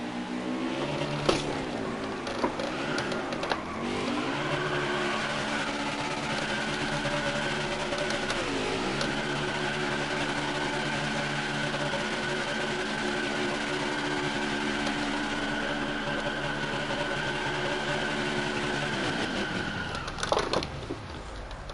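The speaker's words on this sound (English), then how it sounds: "We'll take it into turn 1 before we do our burnouts here." A NASCAR Xfinity race car engine from NASCAR Heat 4 at Watkins Glen revs hard during post-race burnouts, a loud, steady, high-pitched engine drone with rising and falling pitch sweeps held for about twenty seconds.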